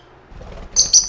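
Pet lovebirds, small parrots kept as a flock indoors, give sharp, high-pitched chirps near the end of a short, quiet moment, two quick bursts close to the listener.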